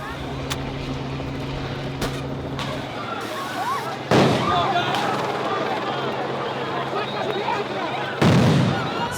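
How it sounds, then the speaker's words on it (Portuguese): Loud explosive bursts from stun grenades or tear gas bombs thrown at protesters, two big blasts with crackling and a noisy, shouting crowd throughout. "Mais uma bomba foi jogada nesse momento"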